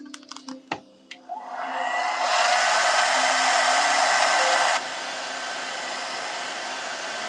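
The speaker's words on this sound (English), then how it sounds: "Hair dryer time." A hair dryer switches on after a few clicks and handling knocks, then blows with a steady loud whoosh and drops to a lower, quieter setting.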